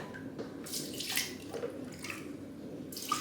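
Water is poured and sloshed from a measuring cup into a pot for apple pie filling, several soft separate splashes and pours at close range against a quiet room.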